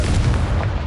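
A Confringo blasting spell explodes in Hogwarts Legacy, a loud, close, booming burst with a heavy low rumble that fills the whole short moment.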